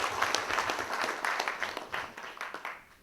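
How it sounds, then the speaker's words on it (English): Audience applause fills the room with dense, continuous clapping that holds steady, then thins and fades near the end. "Give them a round of applause."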